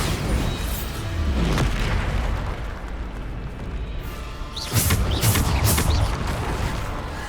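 Repeated Bombarda blasting spell explosions in Hogwarts Legacy, loud booming bursts layered over constant combat noise, with a heavier cluster of blasts near the end.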